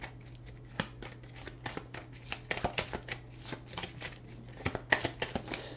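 Tarot cards are shuffled for a Celtic cross spread, producing quiet, close riffles and soft slaps in uneven bursts for several seconds, with no voices.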